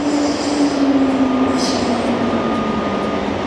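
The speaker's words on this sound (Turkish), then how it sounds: "Bu trenleri seviyorum çünkü hızlı tren, ekspres tren gibi." An express train ride in Vienna, with a loud continuous rumble of the carriage and wheels on the rails and a faint high whine drifting lower, steady throughout.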